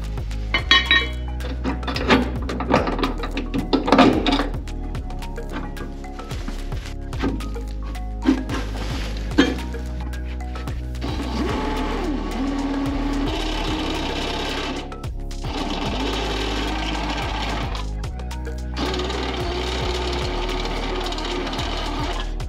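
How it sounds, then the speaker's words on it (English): A power drill bores holes in the metal upper torque box of a Foxbody Mustang restomod, whining steadily in long bursts, with metallic clinks and thunks between them. "and then I'm gonna drill the other side."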